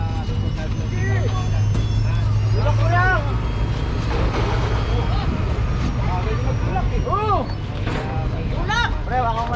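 Kuliglig motorized hand-tractor carts drone with a low, steady engine rumble during a street clearing operation, running continuously under nearby people talking.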